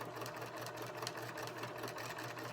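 A normally quiet sewing machine, due for a checkup, runs continuously with a steady mechanical hum and rapid stitching rattle, close by.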